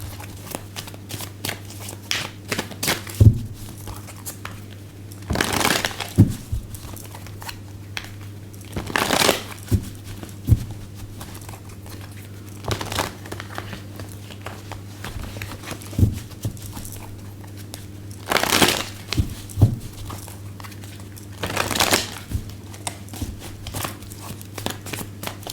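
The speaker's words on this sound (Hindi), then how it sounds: "मैं जब तक कार्ड शफल कर रही हूँ।" Tarot cards are shuffled by hand in several short, crisp riffling bursts spaced seconds apart, with small handling taps between them over a steady low electrical hum.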